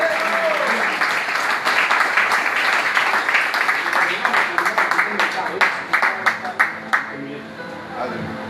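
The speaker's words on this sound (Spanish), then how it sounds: "Si va a aplaudir, háganlo fuerte, por favor." A Spanish-speaking church congregation claps during a Sunday service. The applause starts as a thick wash, then loosens into sparse, separate claps before fading.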